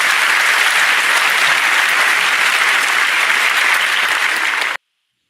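An audience claps in sustained, even applause that fills the room at a steady level, then cuts off abruptly near the end.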